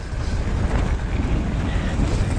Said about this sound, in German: ziemlich windig